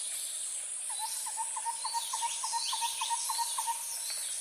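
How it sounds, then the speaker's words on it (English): A steady high insect drone fills the background while a bird repeats a short, evenly spaced call about a dozen times, with faint chirps behind. "add in some rainforest sound effects"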